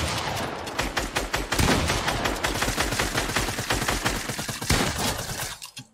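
Rapid gunfire in Fortnite, dense overlapping bursts of shots crackling loudly and continuously for several seconds before cutting off abruptly.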